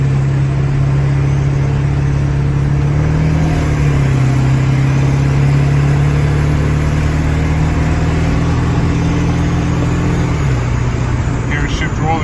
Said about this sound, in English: I believe that's a tire noise.